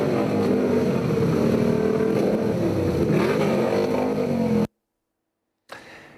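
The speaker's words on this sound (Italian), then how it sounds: "una lunga fila di moto ad accompagnare il feretro al vicino cimitero, seguito da un composto ma assordante rombo di motori" A long line of motorcycles escorts a young man's coffin to a nearby cemetery in Italy, their engines a steady, loud, deafening roar that cuts off abruptly, then returns briefly after a short silence.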